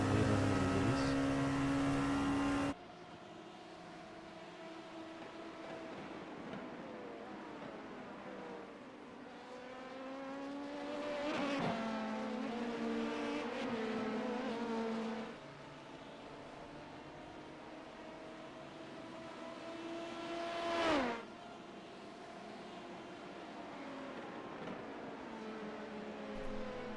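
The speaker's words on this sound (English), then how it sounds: "LMP2 with the Dallara P217. It's the only car in the class." A Dallara P217 LMP2 prototype racing in an IMSA sim race, its engine droning steadily and sweeping up through the gears in long rising pulls, with sharp downshift blips and revving near the end, loud and close without any talk.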